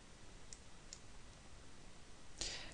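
A computer mouse clicks on a network router in device-simulation software: two faint, crisp clicks spaced apart, then a louder, sharper click near the end, over a quiet background with no talking.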